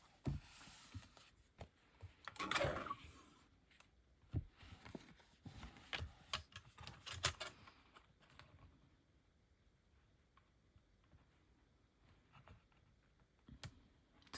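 Designer series paper being cut straight for a handmade card, with a few crisp snips and slicing strokes, quiet and close, followed by faint scattered clicks and handling noises.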